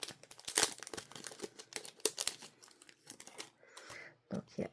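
A small packet holding thread from a cross-stitch order is opened by hand, giving a dense run of close, crinkly plastic crumpling and tearing, then quieter rustles at the end.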